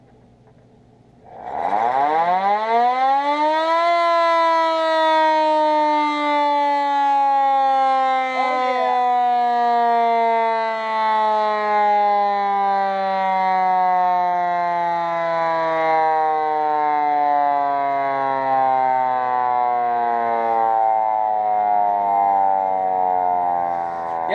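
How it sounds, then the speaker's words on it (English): A fire bike's siren winds up from low to a loud, sustained wail, then holds for about twenty seconds while its pitch slowly sags, steady and close. "Now you guys can hear the siren, maybe."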